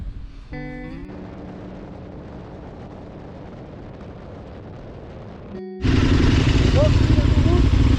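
An off-road motorcycle on a road trip in Portugal idles with a steady engine drone, then after a brief pause the engine roars loudly as the rider opens the throttle, staying close and loud to the end.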